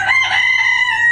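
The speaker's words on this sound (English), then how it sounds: "The chickens are in one right now." A rooster crows loudly and close by in a barn stall where chickens are kept, one sustained, strained call lasting about a second.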